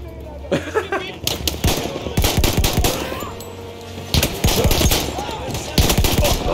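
Rifle fire in Battlefield 1, repeated sharp loud shots in uneven clusters, some rapid and some spaced, close in a dense game soundscape with other gunfire around.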